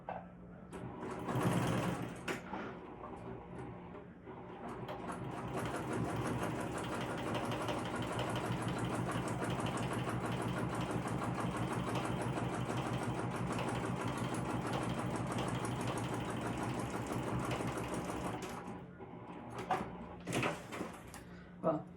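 A sewing machine runs in one long, steady, close stretch, stitching the side seams of the Ember crossbody bag, with brief handling noises at the start and end.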